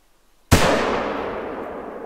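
A single sharp rifle shot cracks out in theHunter: Call of the Wild while hunting bison, a sudden loud blast trailing off into a long echoing decay.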